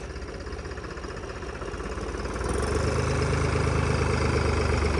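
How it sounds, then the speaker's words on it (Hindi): A tractor engine fitted with a turbo runs steadily, its rumble building and growing louder partway through, then holding a strong, even drone with no voices. "टर्बो की 1 नंबर रिस्पॉन्स है भाई।"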